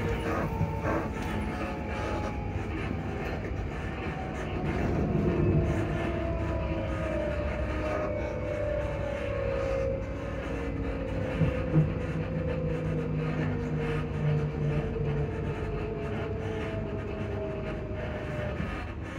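A Class 334 electric train running with noisy suspension, a steady rumble and rattle of the carriage with faint whining tones sliding downward, continuous and close throughout.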